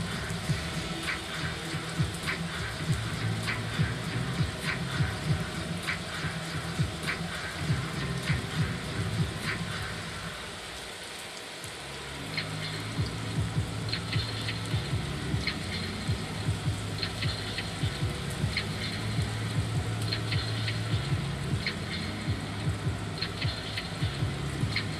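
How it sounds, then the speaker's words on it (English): Steady rain hiss during a Madden NFL 22 video game broadcast of Bengals vs Browns in the second half, a constant wash of falling rain with low crowd-like rumble underneath and a brief dip in the middle. "The rain set to continue as we are underway in the second half."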